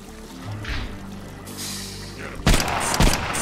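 A freshly picked-up weapon in a first-person shooter blasts a few loud, punchy shots near the end, after a stretch of softer game ambience and music.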